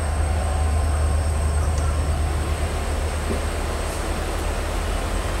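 A passenger train rolls steadily from Agartala toward Udaipur in Tripura, heard from inside a nearly empty carriage: a constant, loud low rumble with faint high whine and no voices.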